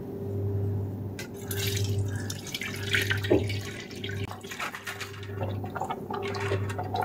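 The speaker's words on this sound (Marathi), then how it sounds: "आता या हरभरा डाळीतील पाणी काढून ती निथळून घेऊ।" Water drains and trickles off soaked chana dal (split chickpeas) in a home kitchen, a steady close drip and splash over a low constant hum, with no talking.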